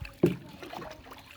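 Rowboat turning on a village pond: a single sharp knock of the wooden hull or oar near the start, followed by soft water lapping and faint splashes under a quiet open-air background.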